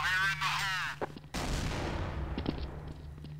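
A grenade goes off in Counter-Strike: Source, a single loud broadband blast with a long, rumbling decay, following a burst of talk and gunfire-like thumps, with game ambience continuing after.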